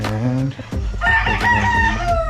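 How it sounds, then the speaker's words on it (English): Chickens cluck and a rooster crows nearby on a rainy morning in Makato, Aklan, the calls overlapping loudly at close range, with a brief spoken word under them. "Chickens are clucking"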